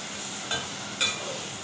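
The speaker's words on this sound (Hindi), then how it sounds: "जी तो हमारा गोश्त भुन रहा है" Beef for korma fries in a pan with a steady bright sizzle, broken by two short metallic clinks of a utensil stirring against the pan.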